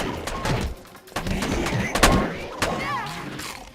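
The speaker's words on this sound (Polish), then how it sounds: "Tu znowu musimy otworzyć drzwi armatą" A cannon blasts a door open with sharp booming impacts and a few crackling hits, loud and close, in the video game Scooby-Doo! First Frights.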